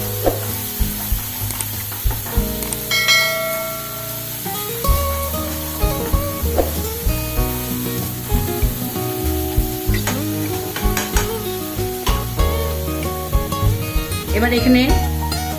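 A spatula scrapes and clatters steadily through prawn curry with sugar in a frying pan, the close, rhythmic stirring ticking over a low kitchen background with music-like tones.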